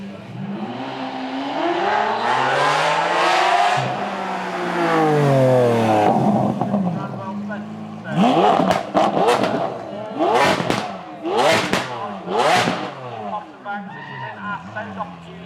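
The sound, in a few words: 770 horsepower supercar accelerating on a race track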